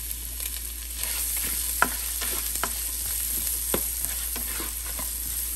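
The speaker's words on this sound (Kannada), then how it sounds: "ಸ್ವಲ್ಪ ಕೆಂಪಗಾಗೋ ತನಕ ಹುರ್ಕೊಳ್ಳೋಣ." Chopped onion fries in a pan for a capsicum chicken dish, a loud, steady sizzle close by with scattered sharp clicks and scrapes from stirring, and no talking.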